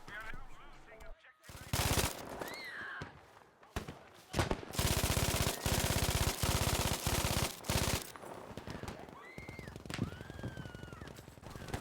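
Long, rapid bursts of MG42 machine-gun fire in Battlefield V rip in a continuous tearing roar, broken by short pauses, with scattered whistles and battle sounds between volleys.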